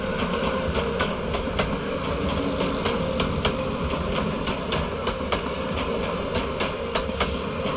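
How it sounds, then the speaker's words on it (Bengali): A train rolls past near a bridge with a steady loud rumble and a rapid, regular clickety-clack of wheels over rail joints throughout, with no talk. "দেখুন, ট্রেনের আওয়াজ।"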